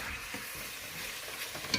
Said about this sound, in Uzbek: Go'sht qo'rib olamiz mana, chiroyli bo'lib qo'rilyapti